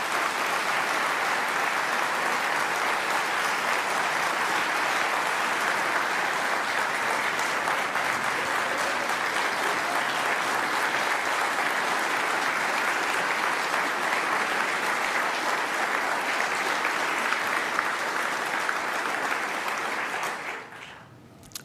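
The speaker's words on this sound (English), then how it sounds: "Yeah, you can clap for that." Sustained applause from a large audience at a Hall of Heroes induction ceremony, a thick, even roar of clapping that continues for about twenty seconds before fading out quickly at the end.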